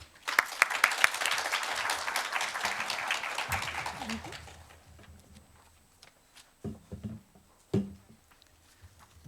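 Audience applause at an early childhood education and care conference parallel session greets a speaker, a dense burst of clapping for about four seconds that thins out and fades, followed by a few scattered thumps and footsteps.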